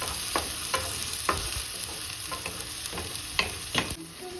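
Onions and a chopped small tomato fry in oil in a clay pot for an egg curry, a steady close sizzle broken by repeated scraping strokes as a spoon stirs.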